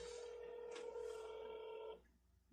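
A telephone rings with a steady electronic tone that holds for about two seconds and then cuts off, leaving quiet room noise.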